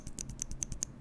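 Keys on a Wooting keyboard with lubed switches are pressed in a quick run of about eight soft, muted clicks over roughly a second, close and fairly quiet.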